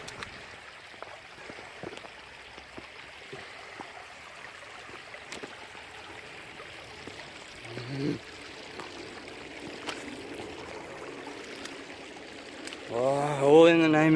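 Creek water runs in a steady, soft wash as someone wades across a rocky creek bed at a basalt columns park, with a few splashy steps and a brief voice near the end.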